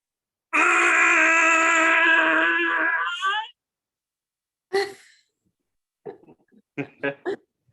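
A voice imitates the Godzilla scream, one loud sustained harsh screeching wail lasting about three seconds, followed by silence and then a few short bursts of laughter and voices.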